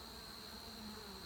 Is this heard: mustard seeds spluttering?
no